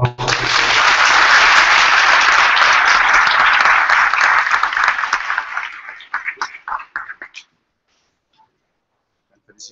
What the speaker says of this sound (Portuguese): É uma salva de palmas.